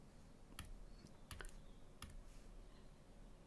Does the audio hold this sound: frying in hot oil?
no